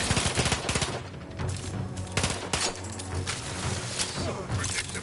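Gunfire in the video game Outer Worlds 2: dense, rapid bursts of automatic shots and impacts, loud and continuous through the whole stretch, with no speech over it.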